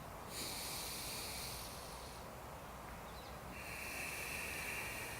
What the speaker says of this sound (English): So I'm breathing in through the nose and out through the nose?